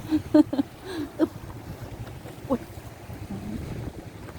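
Wind gusting outdoors by the water at sunset, a low steady rumble with brief louder buffets near the start and midway.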